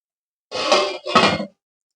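A cake tin set down inside a heated pan for an eggless plum cake made without an oven: two close metallic scraping clunks in quick succession, alone in otherwise silent surroundings.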